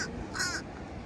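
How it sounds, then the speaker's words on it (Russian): A crow begging for food outside a local bakery in the USA gives one short, harsh caw, close and fairly clear, over faint outdoor background noise. "Ворона тоже, оказывается, просит кушать"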